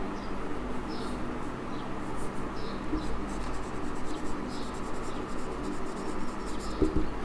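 Marker or chalk strokes on a board while a geometry problem on locus and concurrent lines is worked out, soft scratchy squeaks in short bursts over a steady room hiss, with occasional faint speech.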